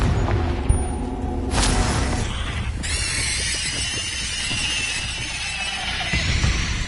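A Confringo blasting spell from the Hogwarts Legacy video game bursts with a sharp, loud boom, then a second blast follows over a dense, busy combat background.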